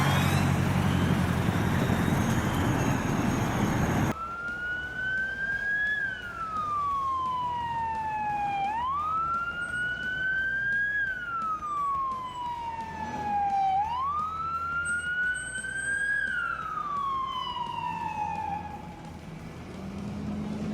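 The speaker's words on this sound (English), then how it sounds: "you can hear the pitch of the siren increase as it comes closer" A passing police siren wails with Doppler shift, its pitch climbing and falling in long sweeps over steady road noise, loud and continuous.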